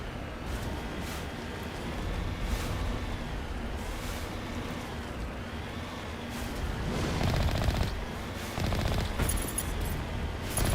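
Machine gun fire in the video game Mass Effect Legendary Edition, a sustained rattling stream of rapid shots over a vehicle-like drone, growing louder toward the end, with no talk.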